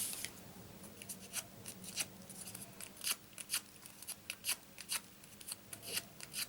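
Paper flowers on a handmade gift card holder are curled with a bone folder: close, dry scraping strokes repeat in quick, uneven bursts against a quiet room, with no talking.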